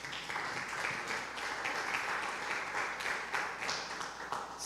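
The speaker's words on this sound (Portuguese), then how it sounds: "Fique de pé e aplauda o Senhor" A church congregation at a sermon claps together in a broad, even wash of applause that carries on steadily throughout, moderately quiet and roomy, with a faint voice underneath.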